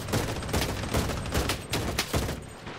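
Sniper gunfire in the video game Bloodstrike, a dense run of loud overlapping shots and blasts repeating roughly every half second, filling the whole stretch with no talking.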